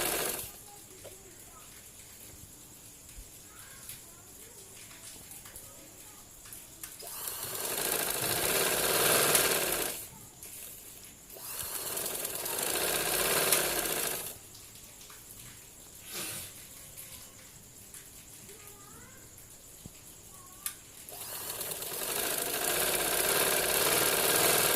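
A sewing machine stitching trouser fabric, running in several bursts of steady whirring with quieter pauses between, close and fairly loud.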